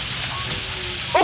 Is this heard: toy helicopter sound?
no